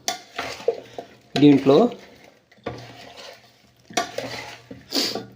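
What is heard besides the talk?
stirring Avakaya mango pickle with a ladle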